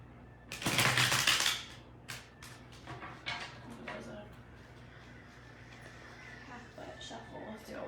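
A deck of tarot cards is riffled in one loud burst, followed by scattered taps and soft flicks of cards being handled.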